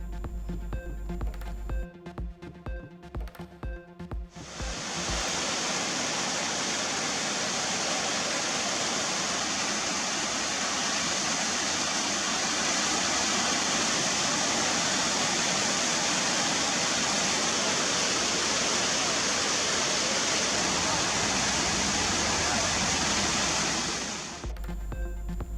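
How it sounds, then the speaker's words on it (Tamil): Silver Cascade waterfall at Kodaikanal in Dindigul district, a loud steady roar of falling water filling the air after a few seconds of choppy noise, then cutting off near the end. "திண்டுக்கல் மாவட்டம் கொடைக்கானலில் உள்ள வெள்ளி நீர்வீழ்ச்சியில் ஆர்ப்பரித்து கொட்டும் தண்ணீர்"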